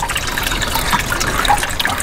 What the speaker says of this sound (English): when it gets up to a certain level, it creates a siphon and just sucks all the water out of this container